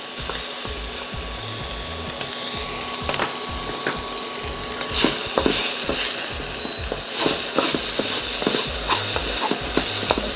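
Sliced bamboo shoots fry for mochi fried rice with a loud, steady sizzle. Clattering stirring knocks run throughout with no voices.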